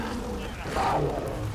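A bear in the video game Far Cry Primal lets out a low, growling roar that rises briefly and fades back under a steady rumble of game ambience.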